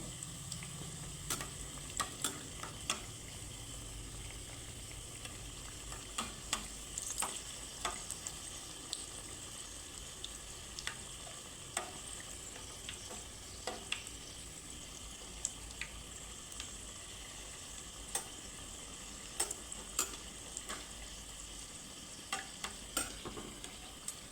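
Bou sundori pitha fries in hot oil with a steady soft sizzle, punctuated by frequent light taps and scrapes of a utensil in the pan, fairly faint and without talk.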